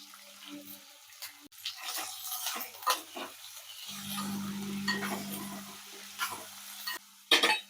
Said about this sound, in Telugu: ఉల్లిపాయ వేగనిద్దాం